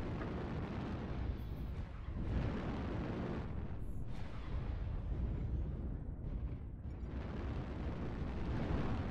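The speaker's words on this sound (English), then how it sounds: "I just hit him with an airstrike." Airstrike explosions in a video game, a continuous roaring rumble of blasts that stays dense and low throughout, with faint swells and no clear gaps.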